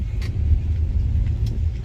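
1966 Ford Fairlane driving on a road, a steady low engine rumble and road noise from inside the car, loud and continuous without speech.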